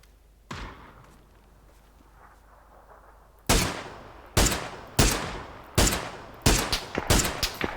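Gunfire in the battle royale game PUBG: one early shot, a quiet pause, then a rapid series of about eight loud, sharp, close rifle shots in a quickening rhythm, with no talking.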